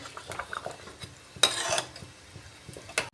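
A ladle scrapes and mashes tomatoes with garlic in a pot of rasam, making soft, sticky stirring sounds at close range with quiet clinks. A louder wet scrape comes in the middle and a short one near the end.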